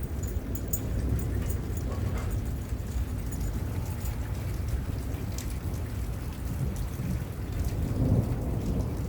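Steady rain pours outside with rolling thunder rumbling through it, a dense, continuous wash of downpour that swells slightly near the end.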